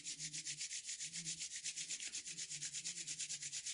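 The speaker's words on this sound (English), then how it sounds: "You can rub the hands," Palms rubbed briskly together in a quiet yoga session, a soft, close, rhythmic swishing friction with steady back-and-forth strokes, roughly six per second, with no speech.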